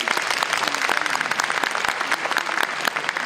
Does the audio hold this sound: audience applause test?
yes